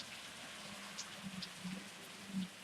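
Steady rain falls on a street in Redlands, California, a constant close hiss of drops on pavement, with a few faint thumps and splashes standing out now and then.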